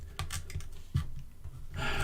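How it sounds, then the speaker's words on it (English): Small plastic clicks as a GoPro 9 camera is pressed hard during disassembly, a few sharp taps over a faint background hiss, close to the microphone. "if you hear the clicking sound, it's actually because I'm pushing on it so hard that it's clicking"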